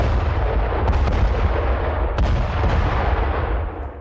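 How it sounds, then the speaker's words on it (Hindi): Russian artillery fire in Donetsk: a dense, continuous rumble of heavy blasts and booms with a couple of sharper reports, loud and sustained throughout, with no voices. "डोनेस्क में रूसी आर्टिलरी का भीषण हमला"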